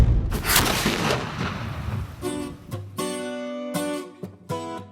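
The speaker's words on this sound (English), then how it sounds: "we fire that cannon, there's lots of smoke, there's a big boom" A replica 6-pound cannon fires with a big boom, a broad burst of blast noise in the opening seconds that rolls off into a long rumbling decay, followed by later tonal sounds.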